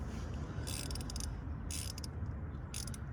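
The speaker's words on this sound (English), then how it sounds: "T25 to undo these two bolts." A T25 driver undoes the throttle body bolts on a BMW Mini N12/N16 engine, giving three short bursts of ratcheting clicks spaced about a second apart over a low, steady background rumble.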